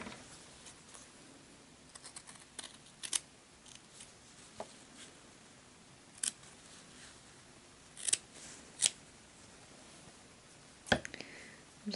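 Scissors snip out fabric arm pieces for a hand-stitched stuffed dragon, quiet scattered cuts and crisp snips spread irregularly over a soft room background.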